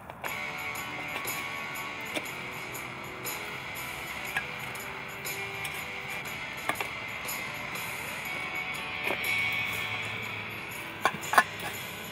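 Chickens clucking softly at morning light, scattered calls from several birds over a steady outdoor background hum, with occasional sharper cackles.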